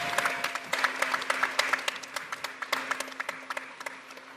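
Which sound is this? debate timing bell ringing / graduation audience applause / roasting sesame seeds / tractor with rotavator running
graduation audience applause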